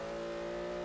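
Porsche engine revving in the racing game Forza Horizon 3, a steady loud mechanical drone with strong tonal harmonics held throughout the short moment, no voices over it.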